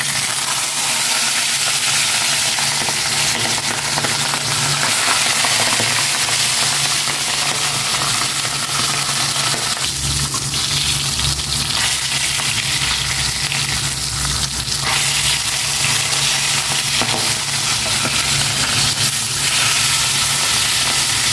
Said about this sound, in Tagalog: I-prito ko na itong basasong.